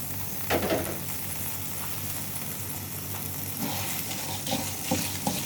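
Tur dal, dry red chilies, garlic and curry leaves dry-roast in a hot pan for tomato rasam powder, a steady close sizzle broken by occasional scraping stirs, with no talking.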